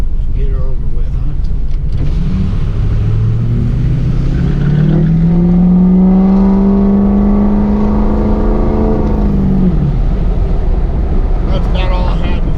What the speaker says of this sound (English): I'll roll down the windows here so you can hear the truck and all that good stuff